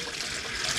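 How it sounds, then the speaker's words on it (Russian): Cold tap water pours steadily over steamed rice in a sieve, a dense, even rushing and splashing with no pauses and no voices. "теперь мы его должны промыть через сито"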